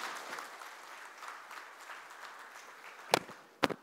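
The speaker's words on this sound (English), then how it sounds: "A big round of applause, ladies and gentlemen." An audience at an IEEE Power & Energy event gives steady applause, a dense moderate wash of clapping throughout, ending with a couple of sharp louder claps or bumps near the close.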